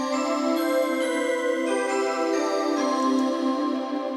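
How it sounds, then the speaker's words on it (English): Omnisphere synth bells on the Double 50 sparkle preset ring out in a bright, shimmering sustained chord, steady and loud throughout, with no one speaking. "Double 50 sparkle for the bells, which that sounds like this."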